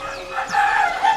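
Canaries sing at the Pramuka bird market in Jakarta, a close, bright run of chirps and whistled sweeps that keeps going for the whole short stretch without pause.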